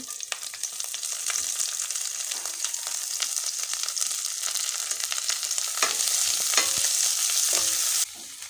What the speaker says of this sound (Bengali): সরিষার তেলটা দিয়ে দিই যেটা তেজপাতা নিছি তেজপাতা দিয়ে দিই এবার দিয়ে দিই পেঁয়াজ কুচি